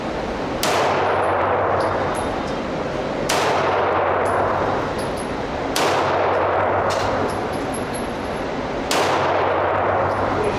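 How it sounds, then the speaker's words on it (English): Four loud, sharp gunshots from a .45 ACP pistol at a shooting range, spaced a few seconds apart, each followed by a long ringing decay with faint metallic clinks in between. "We're going to continue shooting."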